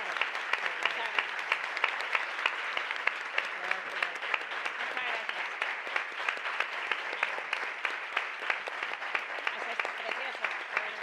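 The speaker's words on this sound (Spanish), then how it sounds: "Un aplauso para las dos." A room full of people applauding at a writers' panel event, sustained dense clapping lasting over ten seconds at an even level, with voices talking underneath.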